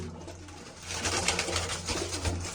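Large pigeons coo close by in soft, repeated rounded calls, with a faint rustle of wings and a steady low background hum, and no talk.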